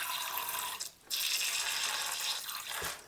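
Water is poured steadily into a Tliltocatl vagans tarantula enclosure, a continuous close splashing hiss with one brief pause partway through.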